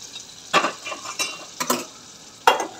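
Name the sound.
cooked moth beans stirred into sizzling spiced oil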